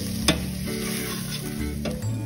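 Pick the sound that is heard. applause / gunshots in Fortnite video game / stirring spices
stirring spices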